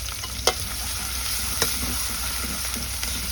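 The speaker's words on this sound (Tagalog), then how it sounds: "Lagyan natin ang ginger." Sliced ginger sizzles steadily in a hot pan for a sotanghon soup, a continuous frying hiss with a couple of sharp stirring clicks, close and alone with no talking.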